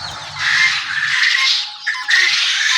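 Guinea fowl on a poultry farm give loud, harsh, sustained squawks close by, one long raucous call breaking briefly before another starts, with no talking.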